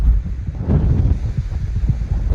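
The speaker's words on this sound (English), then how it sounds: "Still very, very windy." Strong wind on an exposed Appalachian Trail hike in New England buffets the microphone with a continuous low roar and rumbling gusts, loud and close throughout.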